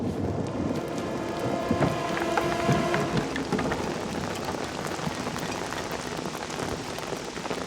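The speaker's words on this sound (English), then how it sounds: "Over the coming weeks, the storm continues" A heavy storm from the film The Lighthouse, with a dense, constant roar of pouring rain and wind, and deep thunder rumbling through the first half, loud and unbroken, with no voices.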